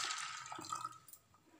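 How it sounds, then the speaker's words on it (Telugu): Water poured into a bowl of washed chickpeas, a brief soft splashing rush that fades out after about a second, quiet and close with no talking. "శుభ్రంగా కడిగిన శనగలలోకి తగినన్ని వాటర్, అంటే శనగలు మునిగేంత వరకు వాటర్ యాడ్ చేసేసుకుందాం."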